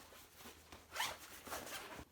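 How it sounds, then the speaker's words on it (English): A zipper on a Nike item is pulled in a few quick, faint rasping strokes, close up and alone with no talk. "The pulls are nice on the zippers."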